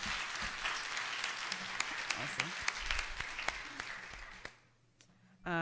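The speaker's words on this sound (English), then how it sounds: "so clap it up for that" An audience claps at a scientific symposium town hall. Dense, sustained applause fills the room, with a voice faintly under it, then fades out near the end.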